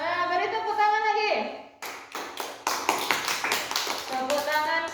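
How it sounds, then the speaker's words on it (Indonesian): Children in an elementary classroom clap their hands in a quick burst of rapid claps after an adult's voice, then a few lighter claps, followed by more talk. "beri tepuk tangan lagi"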